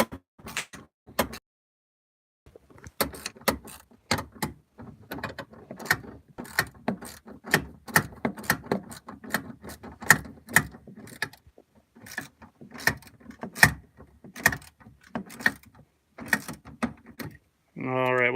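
A ratchet works the last bolt of a car shifter install, giving fast, close, repeated clicking bursts with short pauses between them.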